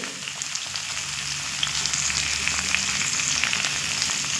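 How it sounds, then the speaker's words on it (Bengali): Spiny gourd slices fry in oil in a covered pan, giving a steady, close sizzle that hisses evenly throughout with small crackling pops. "চাপা দিয়েই কিন্তু ভেজে নেব"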